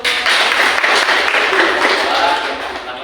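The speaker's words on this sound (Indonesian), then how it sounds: "Tepuk tangan dulu." Students in a classroom clapping together, a fairly loud and dense burst of hand claps that continues for a few seconds and eases slightly toward the end, with some voices mixed in.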